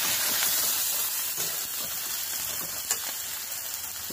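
Tomatoes going into hot oil with frying chili and cumin powder in a village kitchen pan, giving a steady, close, bright sizzling hiss throughout with one small spike and no talking.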